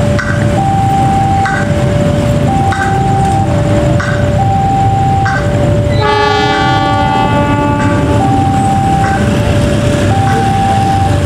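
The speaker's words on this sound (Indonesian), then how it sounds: "Kereta api Malabar sudah terlihat dari sini teman-teman, persiapan melintas langsung di stasiun Cicalengka" A passenger train rumbles loudly past at close range through Cicalengka station in Indonesia, its horn sounding in long tones, alternating pitches and a sustained chord over the steady roar.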